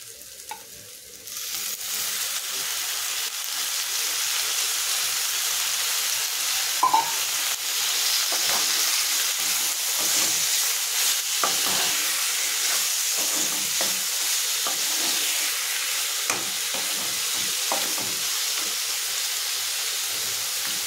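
Mutton frying in ginger-garlic paste for a mango curry, a steady dense sizzle with scattered crackles and occasional scraping, continuing alone at an even, fairly loud level.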